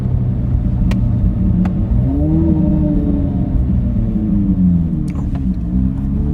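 A Corvette Z06 engine runs steadily with a low, continuous exhaust rumble, its pitch swelling briefly as it revs and then settling back.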